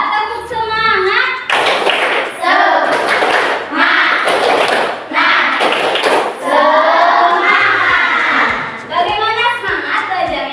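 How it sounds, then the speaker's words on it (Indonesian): A school class claps a rhythmic 'tepuk semangat' chant in bursts of loud, close, patterned hand claps, alternating with children's chanting voices between the clapping sections. "coba tepuk semangat"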